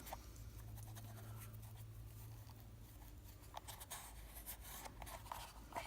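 Weathering being rubbed into a GTP Toys Pickles barrel, soft scratchy rubbing strokes in quick irregular bursts, very quiet and close over a low background hum.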